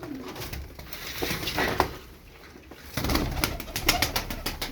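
Fancy tumbler pigeons coo in a loft, a steady murmur of soft repeated calls throughout, with faint scuffling and a few brief bursts of wing movement.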